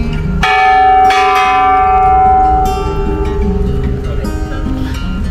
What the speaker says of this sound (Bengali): এখানে আমরা ঘন্টা বাজায় ওদের সম্মান প্রদর্শন করি